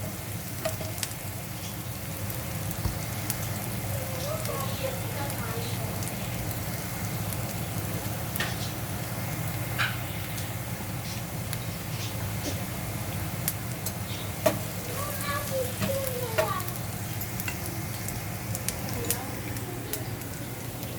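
Diced onion frying in a pan on a home stove, a steady soft sizzle with occasional stirring scrapes and light clatter, continuing alone at moderate level throughout.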